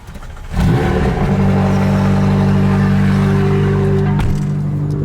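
A car fitted with catless downpipes, plus aftermarket rims and a wrap, cranks and fires up, then holds a loud, steady idle with brief revs, close to the microphone and with no talking over it.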